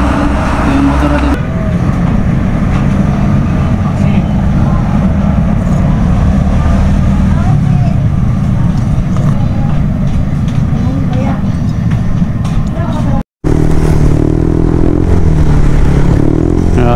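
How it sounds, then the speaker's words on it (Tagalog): Heavy rain pours down during a ride on an NMAX Turbo motorcycle, a loud, dense, steady wash of water and road noise that briefly cuts out, while a rider shouts over it. "Lakas ng ulan mga boss."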